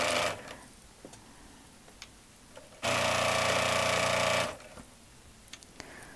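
A sewing machine stitches a fabric apron in one steady, loud, close burst of rapid whirring lasting under two seconds. Quieter room noise and small ticks come before and after it, with no talking.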